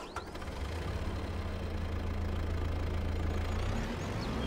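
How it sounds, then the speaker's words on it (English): A tractor engine runs steadily in Farming Simulator 22, a close, low, even idling rumble with a faint knocking pulse and no talk. "let's go ahead and hop in the tractor and move it up a bit"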